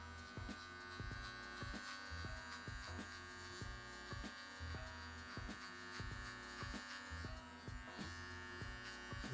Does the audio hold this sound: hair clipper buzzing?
yes